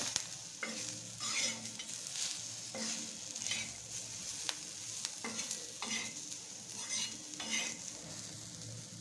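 Pea chutney cooking in a pan with coriander mixed in, stirred in steady repeated scraping strokes over a soft continuous sizzle, close and clear with no talking.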